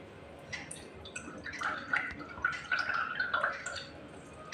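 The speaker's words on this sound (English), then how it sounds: "Next, we'll add vinegar." Vinegar poured onto baking soda for a homemade lava lamp, giving a soft fizzing, bubbling and dripping that builds over a few seconds, close and quiet.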